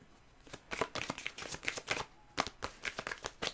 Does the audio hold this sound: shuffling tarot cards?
yes